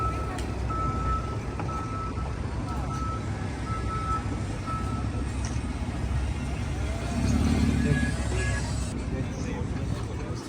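Busy city street during a Filipino food festival, with vehicle engines rumbling and passing under steady crowd chatter, a repeated reversing-style beep early on and a louder swell of traffic near the end.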